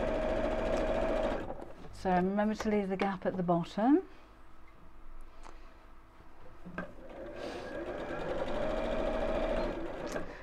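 Basic sewing machine stitching firm Decovil fabric, a steady close whirring run that halts while someone speaks, then resumes and continues to the end.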